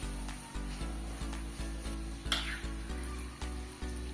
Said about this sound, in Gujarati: આપણે આને 3 થી 7 મિનિટ જેવું સતળાવા દેવાનું છે।